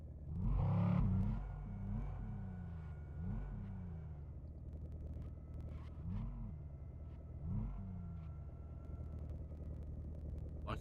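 Cars driving in the video game My Garage, a loud engine rumble that surges early and then several rising revs and whooshes of vehicles passing near, over a constant low drone.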